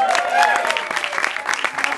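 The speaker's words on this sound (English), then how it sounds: "How about a huge round of applause?" A stand-up comedy audience breaks into a short burst of applause and cheering, with a voice talking over the clapping.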